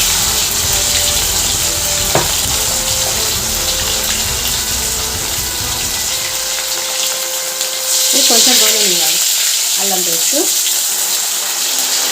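Ginger paste frying in hot oil for fish pickle gives a loud, steady hiss of sizzling that swells briefly, with clinking of a utensil stirring the pan near the end.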